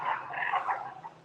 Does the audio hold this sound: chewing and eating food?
no